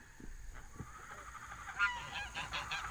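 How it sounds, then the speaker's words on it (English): Geese honking in a short flurry of fairly loud, nasal honks over a rough outdoor background, no talk. "She pretended to collapse to see how her geese would react."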